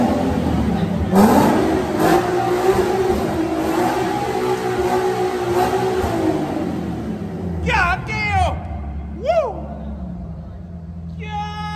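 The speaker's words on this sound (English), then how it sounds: "I heard his car rev so many times." A tuned Nissan Z revs hard nearby, its engine roaring and rumbling loudly for several seconds before dropping off, while people talk excitedly over it.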